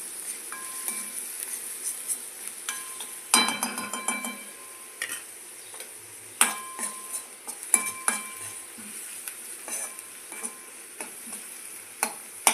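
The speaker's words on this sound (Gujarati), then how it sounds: "ડુંગળી લાઈટ બ્રાઉન થાય ત્યાં સુધી આપણે એને સાતળીશું" Onions sautéing in a pan until light brown, a soft steady sizzle with a spoon stirring and scraping, clinking against the metal now and then in irregular bursts.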